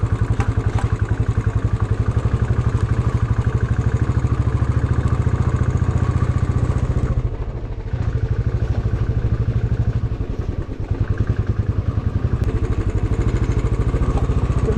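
A motorcycle engine runs close by near Jalatarangini Waterfalls, a loud steady throbbing rumble that briefly dips around the middle before settling back to its even idle-like chug, with no talk.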